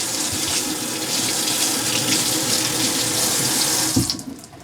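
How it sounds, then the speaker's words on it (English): Tap water runs steadily into a sink as jewelry is rinsed after a silver dip cleaner, a loud close gush that cuts off near the end. "Take it out and immediately rinse it off."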